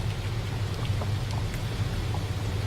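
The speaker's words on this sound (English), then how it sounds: "Maybe the rain has quieted things down." Steady rain patters outside an open window beneath a low background rumble, with scattered soft drips. Nobody speaks.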